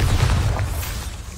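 Bombarda explosion spell in Hogwarts Legacy, a deep, loud booming burst with rumbling low end that fades out over about a second.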